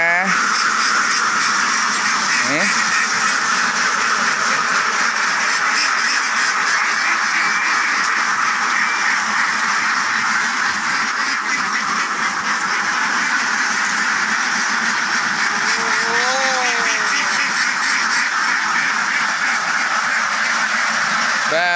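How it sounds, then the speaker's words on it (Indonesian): A flock of about 300 ducks quacks continuously in a dense, loud chorus, with no pauses, filling the whole stretch at close range. "bebek siap dikembalakan di sawah mas ya. ini punya emas kodok sejumlah 300 ekor"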